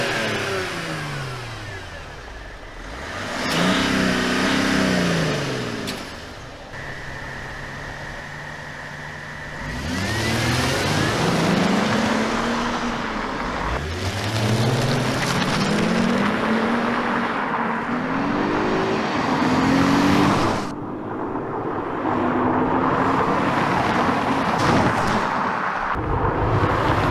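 Cars in a drag race rev and accelerate hard through repeated rising gear pulls, engine pitch climbing then dropping at each shift, loud and sustained with no talk.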